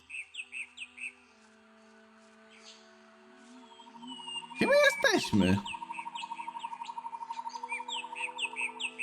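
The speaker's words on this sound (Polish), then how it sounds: "Ten dźwięk tego ptaka mnie trochę przeraża." An eerie bird call rings out in the swampy world of the video game Kroniki Myrtany: Archolos, repeating in short chirping bursts around a loud mid-clip noise, with a brief spoken question near the middle.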